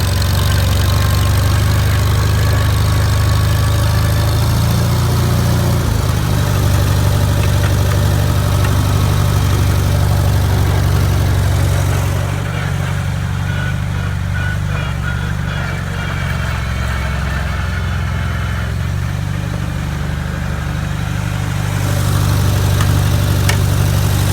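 A Farmall Super C tractor engine idles loudly and steadily nearby, a continuous low rumble with slight shifts in tone, nobody talking.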